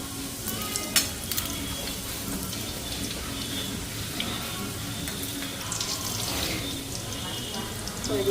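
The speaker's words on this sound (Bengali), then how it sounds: "তো এইদিকে আমার তেল গরম হয়ে গেছে লুচি একটা একটা ভাজা" Luchi flatbreads fry one by one in hot oil, a steady crackling sizzle with stirring and a few clinks, running on with bursts of bubbling.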